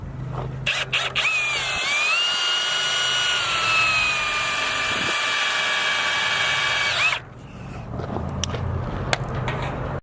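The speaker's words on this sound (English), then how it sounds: "using the 5/16 inch drive, take 2 of these self-tapping screws and put them in each side" A power drill with a 5/16 inch drive runs self-tapping screws into a flag bracket, a loud close whine rising in pitch and holding for about five seconds before stopping, with brief handling clicks before and after.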